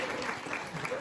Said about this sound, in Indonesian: Sebelum itu kita kasih aplaus untuk kelompok 4.